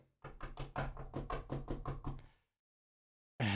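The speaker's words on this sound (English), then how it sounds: "walked to the door and opened up" A rapid burst of about nine knocks on a door, close and loud, followed by a short silence before another sharp sound begins.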